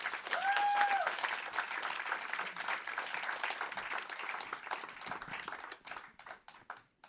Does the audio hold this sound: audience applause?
yes